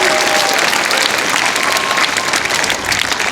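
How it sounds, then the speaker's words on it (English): Audience applause at an elementary school morning assembly during a relay recess, dense continuous clapping from a large crowd, loud and steady throughout with a faint murmur of voices. "Let's give a big round of applause for Mark."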